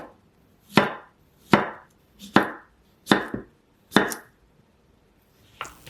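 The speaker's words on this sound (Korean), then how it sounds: "애호박은 동그란 모양으로 썰어주세요" Zucchini chopped into round slices on a cutting board: five crisp, evenly spaced knife strikes about a second apart, close and clear, then a fainter sixth.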